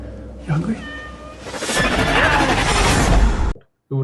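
A cat meows once briefly, then lets out a long, loud, strained caterwaul that cuts off abruptly, close to the microphone.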